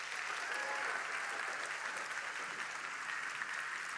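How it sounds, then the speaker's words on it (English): Audience applauding steadily in a school gym at a youth forum's closing ceremony, a dense, even wash of clapping that holds at the same level throughout with no voices on top. "let's give a big round of applause to the entire team"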